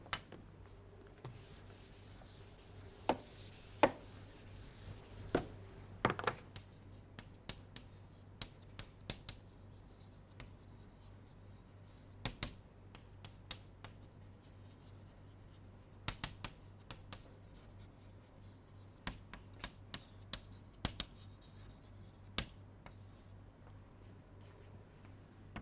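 Handwriting during a physics lecture: faint, scattered scratches and taps of a pen or chalk in short strokes over a quiet room hum, with no talking.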